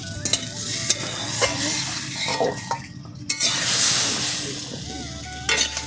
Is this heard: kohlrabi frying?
yes